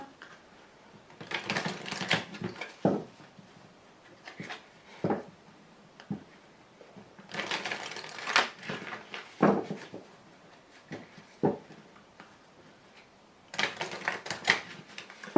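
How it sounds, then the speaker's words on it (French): Tarot cards drawn and laid out during a reading, bursts of papery shuffling, flicking and tapping that come in clusters with pauses between, close and fairly clear, with no speech. "Alors je vous rajoute une carte de précision, une carte image."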